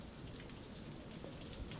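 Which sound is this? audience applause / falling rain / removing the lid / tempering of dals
falling rain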